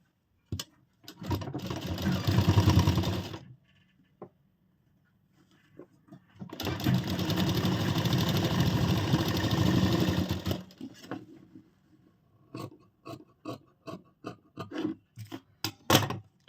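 A sewing machine stitches a blouse in two loud, close bursts of several seconds each, separated by a quiet gap, followed by scattered clicks and light handling taps.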